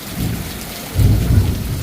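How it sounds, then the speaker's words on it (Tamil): Heavy rain pours steadily with loud, close thunder rumbling through, the deep roll swelling sharply halfway through and sustaining to the end, with no voices. "செம்ம இடி இடிச்சிட்ருக்கு செம்ம மழைங்க"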